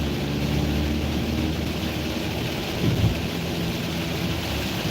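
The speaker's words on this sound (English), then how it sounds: "it's starting to rain harder" Heavy rain pours in a steady, dense roar, heard from inside a car driving at night, with a low thunder-like rumble swelling briefly near the end.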